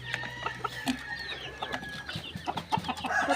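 Roosters at a cockfight cluck and squawk in quick, uneven bursts, close and fairly loud, with several birds overlapping and no clear speech.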